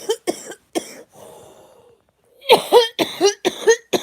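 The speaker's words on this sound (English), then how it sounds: "I'm gonna cough again." A person coughs repeatedly at close range, a few sharp bursts, then a rougher drawn-out hack, followed by a rapid cluster of loud coughs.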